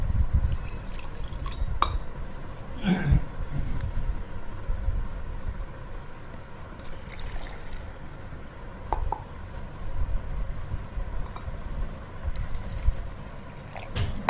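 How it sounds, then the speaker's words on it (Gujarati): Water poured into a jar of pickled gunda berries coated in spices, a steady close liquid gurgle and splash running throughout with a few brief clinks of glass. "હવે આપણે એમાં નાખવાનું છે પાણી અને રાખવાના છે ડૂબતા."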